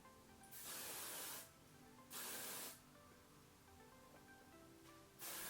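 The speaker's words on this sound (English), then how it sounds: "In there with the Hair Resort spray, and now this is the dry conditioner" Dry conditioner hair spray released in three short hissing bursts, each about half a second long, close and separated by quiet pauses.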